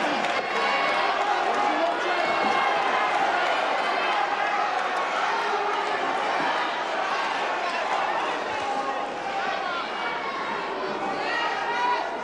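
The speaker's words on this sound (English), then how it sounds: "the crowd's screaming at Adams to finish it" A crowd at a 1981 snooker match at the Fairfield Hall, Croydon, yelling and cheering in a steady, dense roar that fills the hall. A commentator's voice mixes in beneath the noise.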